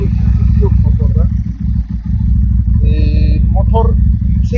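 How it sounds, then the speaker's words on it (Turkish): A 2023 Regal Raptor Daytona 250 V chopper motorcycle idles up close with a steady, loud, even engine rumble, while someone talks over it throughout. "Motor yüksek sesli çalışmıyor arkadaşlar. Egzoz motorun o devir dayım, sibop, şangırtı sesini kapatıyor."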